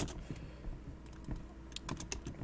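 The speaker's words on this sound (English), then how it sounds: "One hand typing." One-handed typing on a computer keyboard: irregular, close key clicks tapping out in small uneven bursts over a faint background hum, with no voices.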